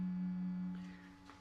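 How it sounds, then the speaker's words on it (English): Faint, steady low hum from the cooling fans inside custom LED conversion headlights on a 2025 Chevy Silverado 2500HD, a constant tone heard close up with no talking. "there's a slight humming coming from these fans inside"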